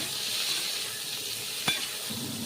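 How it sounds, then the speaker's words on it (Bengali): Pointed gourd pieces fry in hot oil with a steady, close sizzle, broken by a single sharp clink of a utensil against the pan. "পটলটা লাল করে ভাজা হয়ে গেছে"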